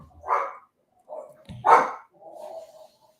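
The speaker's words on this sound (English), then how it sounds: "And you've got a vicious dog in the background there." A dog barks in the background: a few gruff, separate barks and a lower growling woof at moderate distance, spaced irregularly, with no talking over them.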